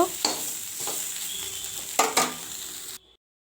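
Close sizzling of cauliflower and potatoes frying in a pan, with scraping stirs and a couple of clatters before it cuts off abruptly.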